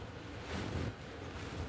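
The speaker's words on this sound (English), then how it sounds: "It's extremely windy out." Strong wind buffets the microphone in a continuous roaring rush, gusting louder for a moment before easing back to a steady blustery hiss.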